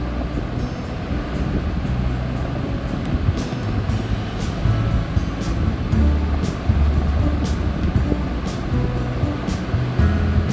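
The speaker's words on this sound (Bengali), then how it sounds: "দিয়ে দিলাম হলুদের গুঁড়া, সামান্য ধনিয়ার গুঁড়া, দিয়ে ভালো করে নেড়ে চেড়ে আমি এটা 7 থেকে 8 মিনিট কষিয়ে নেব।" Jute leaves sauté in a pan with turmeric and coriander powder, giving a loud, continuous broadband hiss with occasional faint clicks from stirring, and no voices.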